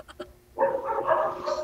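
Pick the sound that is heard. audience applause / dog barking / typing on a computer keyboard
dog barking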